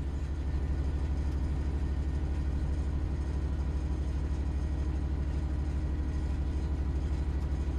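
A steady, deep engine drone with a rumbling low hum, continuous and fairly loud throughout, like a diesel locomotive idling; a Southeastern high-speed train engine in the video game Train Sim World 3.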